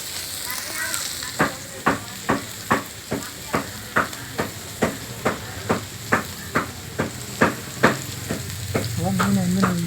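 Fish fries in a pan with a steady close sizzle, punctuated by a regular rhythm of sharp scraping or stirring strokes about twice a second.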